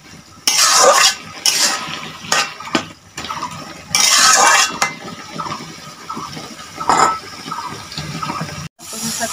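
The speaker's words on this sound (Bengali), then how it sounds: "ভালো করে চিংড়ি মাছটা কচু শাকের সাথে মিশিয়ে নিতে হবে।" Shrimp and taro leaves are stirred in a pan with repeated loud scraping and sloshing strokes, an irregular rhythm of bursts separated by brief pauses.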